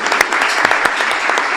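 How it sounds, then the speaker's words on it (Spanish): Audience applause for a teacher at a school alumni gathering, dense, close, loud clapping from many hands with a few sharp individual claps standing out. "Pido un aplauso para él."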